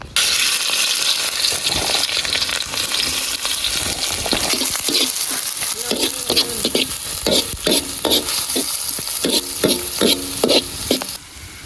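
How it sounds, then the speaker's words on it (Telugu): Finely chopped onions hit hot oil in a village kitchen and fry with a loud, steady sizzle, while scraping stirs and clinks come through in bursts over the crackle, with no talking. "మనం ఇక సన్నగా తరిగిన ఉల్లిగడ్డలు అయితే వేసుకుందాం. మన నూనె కూడా మనకు గరమైంది."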